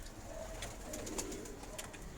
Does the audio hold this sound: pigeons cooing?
yes